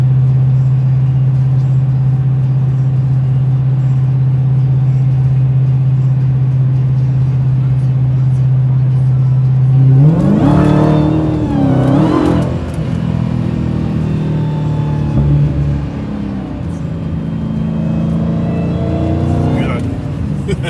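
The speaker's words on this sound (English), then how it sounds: "Good little supercharger." Supercharged Dodge Challenger Redeye engine idling with a steady low drone, then revving hard in a couple of sharp rising bursts with supercharger whine, followed by further engine noise and a final blip.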